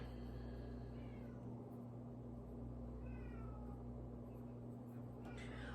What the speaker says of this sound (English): Oh, I can hear my kitty crying.